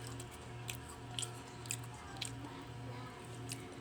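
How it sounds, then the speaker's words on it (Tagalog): Close biting and chewing of food, soft wet crunches and squishes repeating at irregular intervals over a low steady hum, with no talking. "Unang kagat po."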